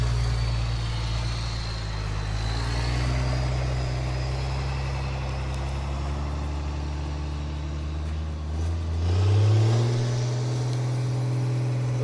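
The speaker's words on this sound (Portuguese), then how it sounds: "Os carro-pipas aí, ó, todo mundo trabalhando aqui, ó." Water tanker trucks work at a dam construction site, their engines idling in a deep continuous drone, close and fairly loud, with a rising rev near the end and no talking.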